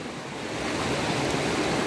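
Water rushing beneath a bamboo bridge near Hundru Waterfall, a steady, dense wash of flowing water, close and fairly loud, with no voices.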